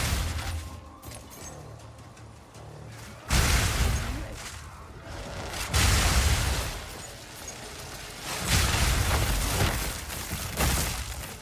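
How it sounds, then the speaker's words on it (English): Chaos explosions in the action role-playing game Path of Exile 2, heard as a few loud, broad bursts spaced several seconds apart over a quieter rumbling game backdrop. "those chaos explosions are actually super helpful"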